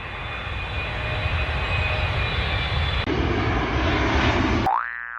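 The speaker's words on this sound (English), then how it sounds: "A for airplane" Airplane engine droning steadily and loudly, close by, for several seconds, then cut off by a short rising cartoon boing at the end.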